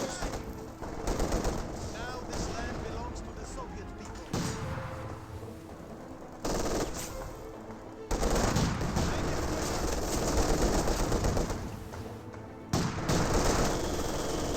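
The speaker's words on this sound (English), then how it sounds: "we do have the MG42 suppressing the Penal squad" An MG42 machine gun firing in the Company of Heroes 2 video game, with sustained rattling bursts broken by brief pauses amid a dense, busy battlefield din.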